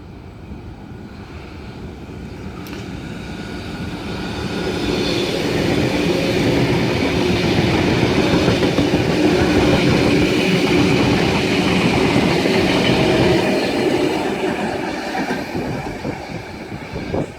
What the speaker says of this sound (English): That is S12 and an unidentified S set past the down main on its way to Campbelltown.